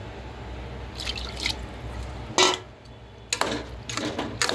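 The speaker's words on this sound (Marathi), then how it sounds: "आता पाणी टाकूया" Water is poured into a pot of vegetable pulao in several close splashing bursts separated by short pauses, over a low steady background hum.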